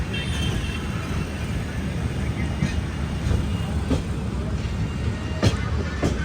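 A second-class passenger train from Shri Mata Vaishno Devi Katra pulls into Jammu Tawi station, heard from inside as a steady, loud rolling rumble with faint wheel clicks and a few sharp knocks near the end.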